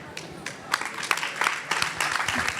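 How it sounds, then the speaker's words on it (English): Audience applause with many hands clapping in a steady rolling wash, moderately loud and continuous, with some voices mixed into the crowd noise at an interview event. "Or are you just clapping?"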